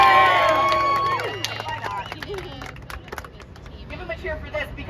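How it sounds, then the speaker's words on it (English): A crowd at a WGA writers' strike rally cheers for Franklin Leonard, with loud cheering and whistles at the start that fade into a steady murmur of crowd chatter and scattered shouts. "give him a cheer"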